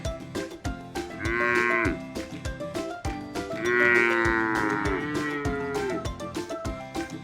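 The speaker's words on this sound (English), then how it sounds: "Cow sound is known as moo." Cattle mooing on a farm, two long drawn-out moos standing out over a backdrop of music, with short percussive hits and tonal notes throughout.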